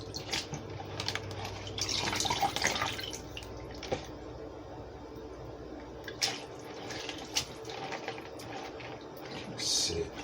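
Tap water running into a pot for cooking noodles, a soft irregular splashing and trickle with drips, fairly quiet, with faint background activity and clinks.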